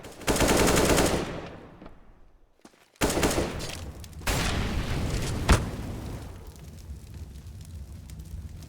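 Rapid automatic gunfire from a Counter-Strike match on the Cache map, with a loud burst up front, then another volley and a sharp single shot, then quieter reverberant noise.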